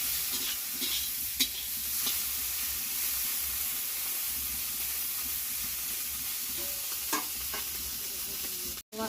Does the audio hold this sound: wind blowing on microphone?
no